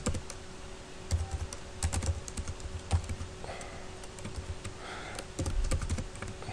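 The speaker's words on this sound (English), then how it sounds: "just continue typing there." Fingers typing on a computer keyboard in bursts of quick, close key clicks with short pauses between runs, no voices over it.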